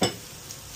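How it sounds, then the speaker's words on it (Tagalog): Beaten egg poured over eggplant for tortang talong frying in a pan, a brief soft sizzle opening slightly louder then settling into a faint, steady crackle. "bubuhos ako ng itlog unti-unti ang talong para siya ay matorta ng ayos."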